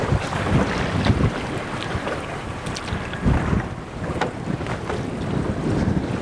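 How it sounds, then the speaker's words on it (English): A boat trolling motor running out on the sea among swell, buried under heavy wind buffeting and sloshing waves, a constant rough roar with no voices. "That trolling motor is doing fine with that swell direction and the wind."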